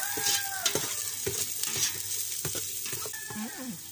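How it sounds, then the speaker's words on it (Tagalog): Spices sautéing in a pan for native chicken tinola, Ilonggo style. A steady sizzle of frying is broken by several clanking stirs of a utensil against the pan, close up and with no talking. "antayin lang natin guys na maluto yung ating mga spices, yung ating lahat na spices"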